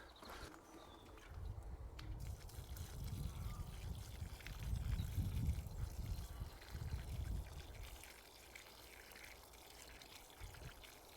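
Water from a watering can poured onto garden soil while planting a pear cordon, a soft, close splashing trickle that swells in the middle and tapers away, with faint rustling around it.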